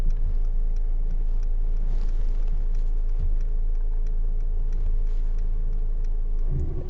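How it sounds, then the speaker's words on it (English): Mercedes E300 from 2017 shifting gear on its own and creeping forward while self-parking: a steady low engine hum with faint clicks, heard from inside the cabin with no talk. "It's actually switching gear by itself and going forward."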